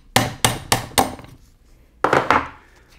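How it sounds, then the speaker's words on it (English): A 5/32 dowel pin is driven into a T5 five-speed transmission case: five sharp, close knocks, three in quick succession, then a pause and two more. "remove the dowel pin just by pushing it in"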